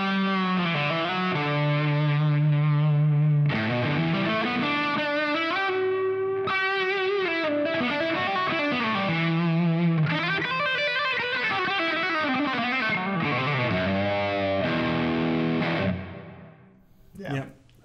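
Distorted electric guitar lead tone run through a Positive Grid Bias Amp 2 modeller, with extra low end driven into the distortion for a fatter attack; a loud, sustained melodic line of bends and held notes plays alone, ending in a brief fade.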